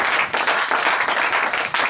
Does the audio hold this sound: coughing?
no